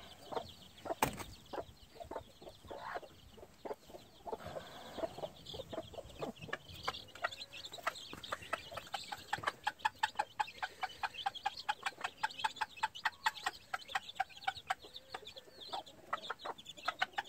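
A mother hen and her baby Hatch Grey gamefowl chicks cluck and peep steadily in a rapid, repeated chatter while feeding on boiled eggs, fairly close and continuous with no talking.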